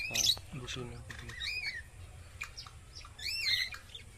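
A cockatiel gives sharp, repeated chirping calls in short bursts, fairly close, with faint background noise between them.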